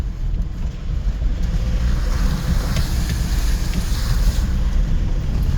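A vehicle towing a trailer loaded with bee hives rolls through a wheel wash, giving a steady, loud, broadband rush of churning water and rumble that holds for several seconds with no talking.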